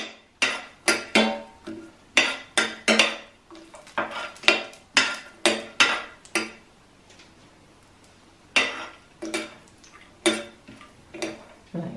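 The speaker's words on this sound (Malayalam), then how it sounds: "ഇത് നന്നായിട്ട് ഒന്ന് ഇളക്കി കൊടുക്കാം." A metal spoon clanks and scrapes steadily against a pot while spices such as cinnamon and cloves are stirred for a vegetable biriyani, with sharp, close, rhythmic knocks and short pauses.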